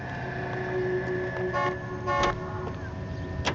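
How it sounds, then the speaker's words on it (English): A car horn honks in the L.A. Noire street driving scene, two short toots standing out over steady engine and traffic noise at moderate distance. "Why are you honking at me?"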